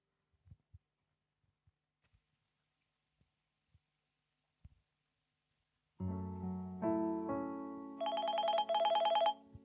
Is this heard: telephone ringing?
yes